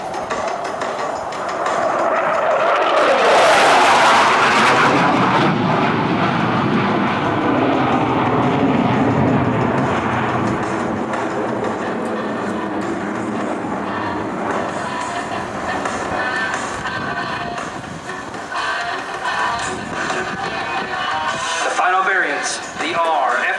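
A QF-4E Phantom jet fighter flies a demonstration pass at an air show, its roar swelling loud early on and then settling into a sustained broad rumble beneath continuous narration.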